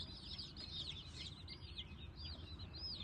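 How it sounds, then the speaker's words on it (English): Baby chicks kept under a warming plate, chirping in a continuous, overlapping chorus of thin high peeps, close and fairly busy, with shuffling and rustling beneath and no talk. "It's the same for these baby chicks right here. These are babies."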